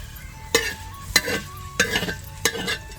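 Green chillies roasting in a pan for a traditional Marathwada pongalyachi aamti, with four sharp stirring scrapes spaced evenly over a low steady sizzle, close and clear with no talking.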